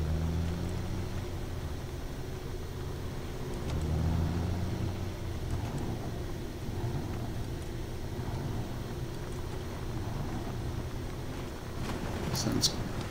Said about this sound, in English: I love the sound of this truck.